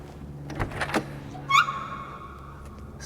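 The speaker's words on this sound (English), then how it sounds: "Squeaky door." The door of a 1969 Camaro RS/SS 396 gives a short, high, squealing creak right after a couple of soft thumps, close by and otherwise quiet.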